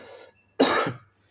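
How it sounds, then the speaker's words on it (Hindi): A single sharp cough bursts out near the microphone during a pause in a lecturer's speech, brief and loud against a quiet room. "खांसी होने लगता"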